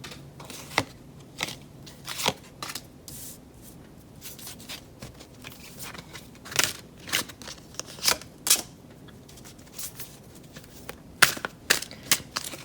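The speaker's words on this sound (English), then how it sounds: "So I'm gonna shuffle the cards." Tarot cards being shuffled and handled close by, irregular papery riffles and sharp flicks and snaps repeating over a quiet background.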